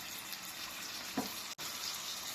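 Eggs sizzle steadily in a hot pan over low heat, a close, even crackling hiss with one brief dropout near the end.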